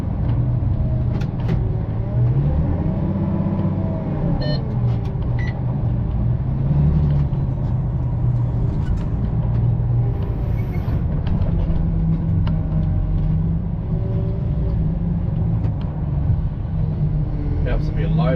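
Wheel loader cab interior while screened topsoil is loaded into a trailer: a loud, steady diesel engine drone with rising and falling revs throughout, and someone talking over it.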